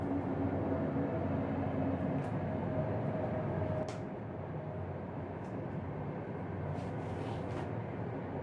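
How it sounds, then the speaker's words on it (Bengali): A passing train rumbles steadily at a distance, a continuous low roar that holds level and then eases slightly, with faint higher clanks over it and no voices. "ট্রেন যাচ্ছে।"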